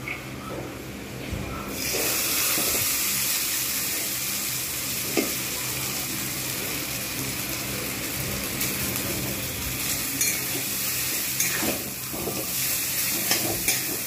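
Chow mein noodles fry in hot oil and are stirred, a loud sizzle that starts after a quiet opening and runs on steadily, broken by occasional scraping stirs, with no talk.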